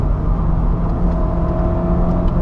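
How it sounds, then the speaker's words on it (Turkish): A 2017 Honda Civic Sedan RS engine hums steadily at a strong, even level while cornering, a close continuous drone with a faint rising whine, no voices. "Yani motor sesi insanı sportif sürüşe sevk ediyor."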